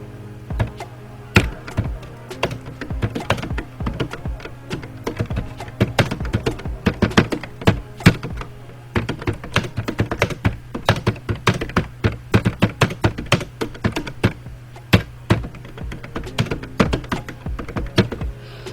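Someone types steadily on a computer keyboard, filling in an HTML form. The key clicks come close and distinct in irregular bursts with a faint low hum underneath.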